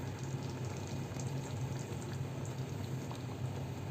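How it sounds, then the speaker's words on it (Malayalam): Tomato egg drop soup with beaten egg at a steady rolling boil, a continuous close bubbling and simmering with no voices. "മുട്ട ഈ സൂപ്പിൽ കിടന്നിട്ട് തിളച്ച് വരണം"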